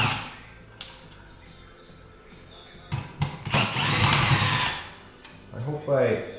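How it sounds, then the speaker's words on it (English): A DeWalt power drill backs out quarter-inch bolts on an arcade Galaga coin door, giving a few short whirring bursts and then one longer, louder close whine, with someone speaking around them. "Instead of the ratchet, I put it in my drill, my DeWalt here."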